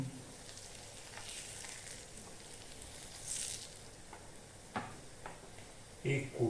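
Hot tempering poured into a coconut-based chicken curry sizzles softly and steadily, a quiet frying hiss with a few sharper crackles and clinks near the end.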